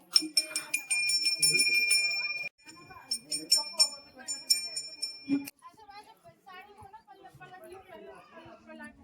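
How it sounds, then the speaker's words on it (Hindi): Small temple bell in a Rajasthan village struck repeatedly, bright ringing strikes in quick bursts over the first few seconds, then people chatter nearby after the ringing stops. "जाओ इसी की घंटी बजाओ।"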